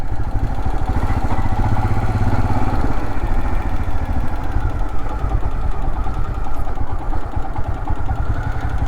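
An adventure motorcycle engine thumping steadily on a mountain road near Munnar, a loud, close, continuous rumble with no talking over it.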